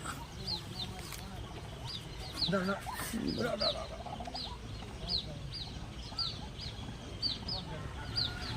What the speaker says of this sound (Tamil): அந்த பெரிய கோழி கீழே உட்காந்துருக்கு, கூப்பிடுது.